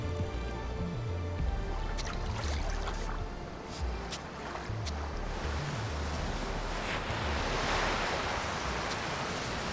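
Ocean waves wash up a lagoon beach in continuous surf, a broad rolling hiss with wind buffeting the microphone and a few sharper splashes.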